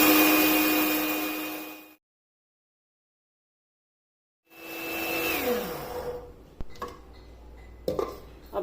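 A small electric grinder pulverizes whole cloves, black peppercorns and a bay leaf for a potato biryani spice mix, whirring loudly for about two seconds, falling silent, then running again with rattling, clattering bursts as the spices tumble.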